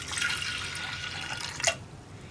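Water splashes and trickles into a pot of lentils for a couple of seconds, with a few sharp clinks at the end, no voices.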